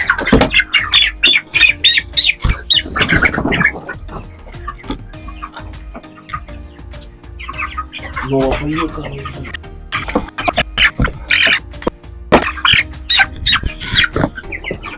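Broiler chickens about 23 days old squawk and cluck loudly and continuously, close by, a busy flock with overlapping calls and some talking mixed in.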